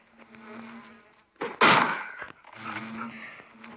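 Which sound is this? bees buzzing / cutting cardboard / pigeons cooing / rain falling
bees buzzing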